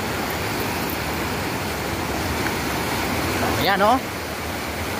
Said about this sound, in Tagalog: Ganyang kalakas ang tubig.